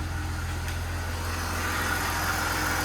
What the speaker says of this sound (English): This car is running much smoother now.